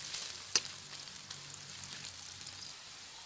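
Panch phoron and chopped onion sizzle in hot oil for an egg curry, a steady close hiss with one sharp crackle near the start and no talking.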